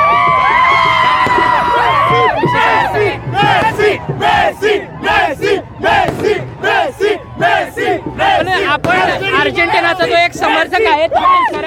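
A large crowd of football fans in Kolhapur roars and cheers as Argentina wins the 2022 FIFA World Cup, loud and close, with repeated bursts of shouting and chanting swelling over a constant babble.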